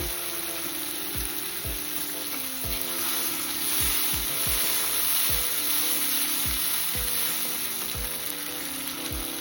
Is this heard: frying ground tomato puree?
yes